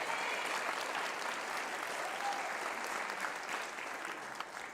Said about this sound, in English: So let's give a round of applause for our Jazz All-Stars.